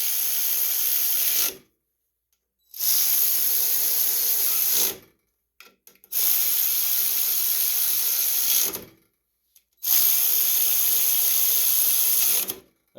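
A power drill or driver runs in four long, loud bursts with short silent gaps between them, tightening the valve cover bolts on a 2017 Craftsman T2200 riding lawn mower with a 19 hp engine.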